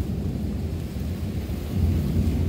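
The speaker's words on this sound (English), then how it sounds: "Look, it's raining." Rain pours steadily outdoors during a backyard fireworks session, a low rumbling wash that swells louder near the end, with no voices.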